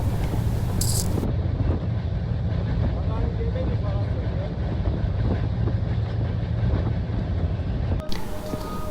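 Swaraj Express passenger train running at a steady 125-130 km/h, a loud continuous low rumble and rattle of the carriage with wind rush, briefly joined by a faint high hiss near the start and a short break late on.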